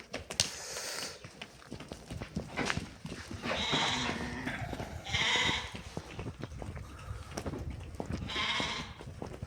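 Sheep and rams bleat repeatedly in a livestock pen, a yearling breeding ram and first-time ewes among them, the cries overlapping in several loud bursts over steady farmyard rustling and shuffling.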